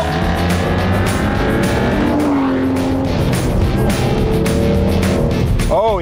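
An old Mercedes car accelerates hard on a race track, its engine roaring loud and close throughout, with the pitch climbing and dropping through gear changes and a sharp rising sweep near the end.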